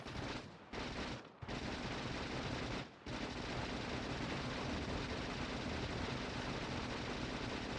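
Sustained rapid gunfire shooting enemies in a video game, dense continuous bursts with a few brief pauses early on, loud and close.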